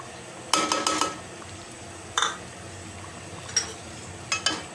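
Beef korma with yogurt, onion paste and korma masala being stirred in a pot, sparse metal spoon clinks and scrapes against the pot over a faint low sizzle.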